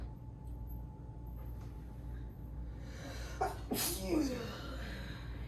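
A single sharp sneeze bursts out close to the microphone amid a low background hum, preceded by a brief intake of breath.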